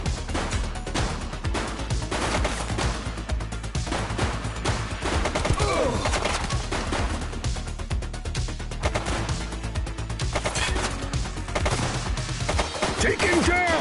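Gunfire in the police video game The Precinct: dense, continuous bursts of shots and impacts that fill the whole stretch, loud and close, with shouted game voices mixed in.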